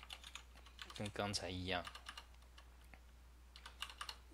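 Soft, quiet clicks of typing on a computer keyboard while editing in Emacs, a few scattered keystrokes before and after a brief spoken phrase.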